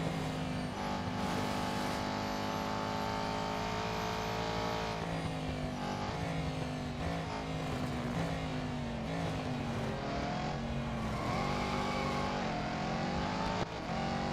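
A racing car engine in the mobile game Real Racing 3 drones steadily at high revs, with rising pitch sweeps through the gear shifts and other cars audible around it, continuous and moderately loud.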